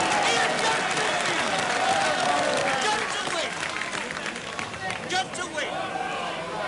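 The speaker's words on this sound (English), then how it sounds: "Listen to the crowd here." A cricket crowd claps and cheers in a continuous roar that swells and eases, with a commentator talking over it.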